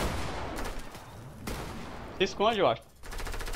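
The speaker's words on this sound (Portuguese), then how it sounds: "Tem alguém atirando dali, ó. Lá do fundo." Distant gunfire in a Fortnite Battle Royale match, bursts of shots rattling in the background while a player speaks briefly over them.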